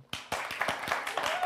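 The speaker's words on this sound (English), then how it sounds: "they're clapping too hard back there" Crowd clapping at an outdoor Fourth of July food event at a McDonald's in Orlando, a string of sharp, fairly close claps in an uneven rhythm joined by murmuring voices.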